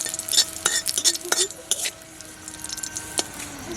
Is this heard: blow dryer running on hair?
no